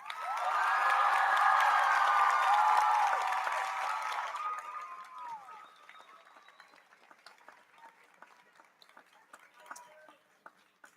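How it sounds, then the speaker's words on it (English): Applause from a high school health professions commencement audience for the graduates' parents, a loud sustained wave of clapping that fades to scattered claps over several seconds. "Let's please offer our parents another round of applause"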